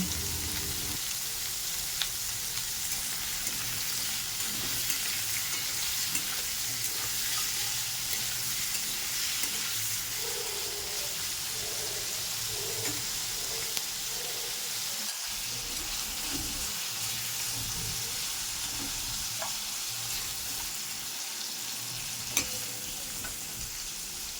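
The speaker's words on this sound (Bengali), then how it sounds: "আদা পেঁয়াজ রসুন টমেটো হালকা ভেজে নিয়েছি" Ginger, onion, garlic and tomato fry with salt in a pan, producing a long, even sizzle with occasional soft stirring scrapes, steady and fairly quiet throughout.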